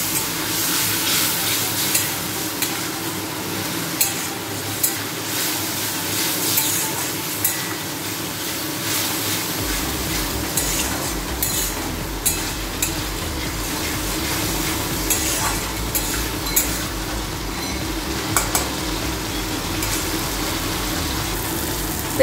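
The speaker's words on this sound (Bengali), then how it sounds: "জল দিয়ে এই মশলাটাকে ভালো করে এখন কষিয়ে নেব" Spice paste (masala) sautéed and stirred with water in a pan for a Bengali fish-head muri ghonto. A steady, close sizzle runs throughout, with repeated scraping stirs and no talking.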